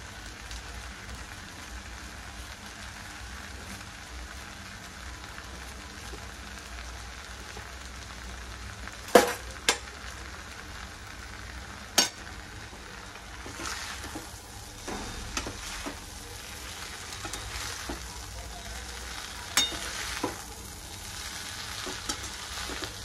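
Noodles with soy sauce and masala fry in a pan with a steady, loud sizzle, punctuated by several sharp clinks of utensils stirring and tossing.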